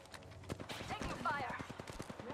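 Rapid bursts of gunfire in a video game, dense clattering shots mixed with in-game effects and a voice over them, fairly quiet overall.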